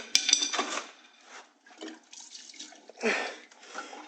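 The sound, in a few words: gasoline being poured and swirled in a fuel filter can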